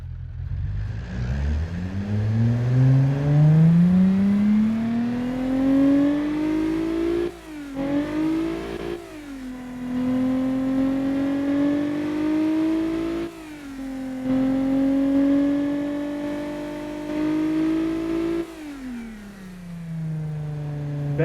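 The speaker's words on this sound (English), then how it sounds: "A V6 engine has a very nice noise" A smooth Honda J37A5 V6 engine replica in the game Automation revving up through rising pitch, dropping briefly between gear shifts and climbing again, loud and continuous with no voices.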